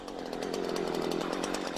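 A chainsaw runs steadily on a log, giving a loud, continuous, buzzing engine drone with a fast rattling pulse and no pauses.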